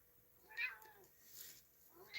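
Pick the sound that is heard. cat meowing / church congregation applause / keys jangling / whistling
cat meowing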